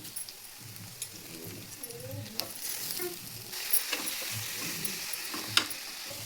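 Soaked meal maker soya chunks frying with reddened onions in a pan, a steady low sizzle and crackle with occasional stirring clinks, close and moderately quiet throughout.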